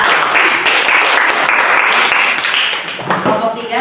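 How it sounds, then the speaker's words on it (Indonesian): A school class applauds a student group after their presentation in a lesson; loud, dense clapping fills the room continuously, with some voices mixed in toward the end. "Tepuk tangan untuk kelompok 2."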